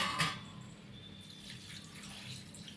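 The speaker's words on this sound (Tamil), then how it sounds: "இப்போ தண்ணி நம்ம தேவையான அளவு சேர்த்துக்கலாம்." Water is poured into a pan of crab curry as a soft, continuous trickling splash, fairly quiet and with no voices.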